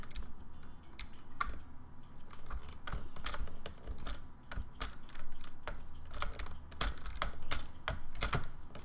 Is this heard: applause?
no